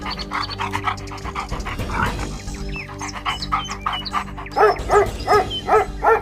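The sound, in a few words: dog sniffing and panting while tracking a scent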